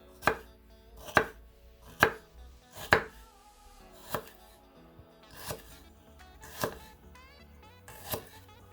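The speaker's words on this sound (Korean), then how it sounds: "샐러리를 채 썰어 주세요" A knife julienning peeled celery on a cutting board, with about nine crisp, distinct chops spaced roughly a second apart, close and clear against a quiet background.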